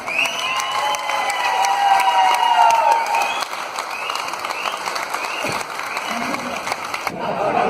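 A crowd applauds loudly and steadily for several seconds, dense clapping filling the room, with some voices mixed in.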